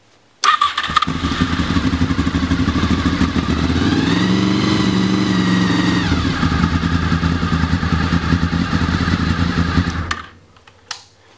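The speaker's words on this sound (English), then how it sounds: "I'm going to start the bike up for a couple seconds to get the oil going" A Honda VFR800 motorcycle engine starts and runs steadily for about ten seconds at close range, its note rising briefly mid-run, then cuts off abruptly.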